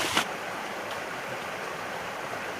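Water from the Béhor stream in the Baronnies provençales of France flows in a steady, close broadband rush, with a brief splash or knock at the start.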